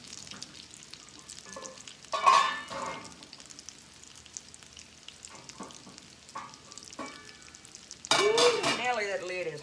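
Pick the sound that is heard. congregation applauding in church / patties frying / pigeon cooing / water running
patties frying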